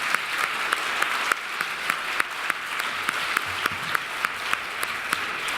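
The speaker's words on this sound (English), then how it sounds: "let's just give her another round of applause" An audience at a 2014 Oregon State of Reform keynote applauds steadily for several seconds, a dense wash of clapping with a few sharper claps standing out, no voices over it.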